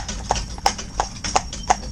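Hooves of an older cob walking under a rider: about five clear, evenly spaced clip-clop footfalls, close and moderately loud over low background noise.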